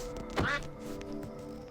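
A single sharp duck quack from a modded video game rings out once, short and clear over faint game background sounds.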